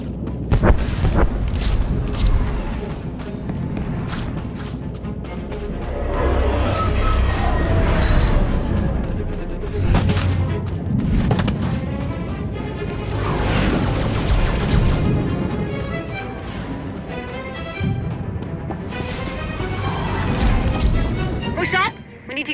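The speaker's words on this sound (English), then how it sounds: "Artillery incoming!" Artillery shells exploding on a beach under fire, heavy booms and sharp cracks recurring every few seconds at close range, with shouted voices and battle noise layered over them throughout.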